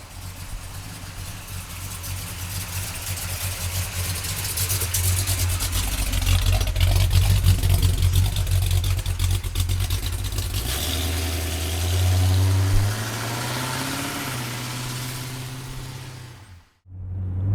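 A 1967 Pontiac GTO with a 389 V8 idles with a steady, deep low rumble that swells a little midway and then settles, close by with no talking, before cutting off abruptly near the end.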